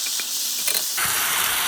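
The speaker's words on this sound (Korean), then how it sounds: "야채를 넣고 한 1분간 강한 불로 볶아주시면 됩니다." Sliced vegetables hit a hot pan of seasoned Korean spicy stir-fried pork over high heat, giving a steady, close, loud hiss and sizzle that swells partway through, with no talk.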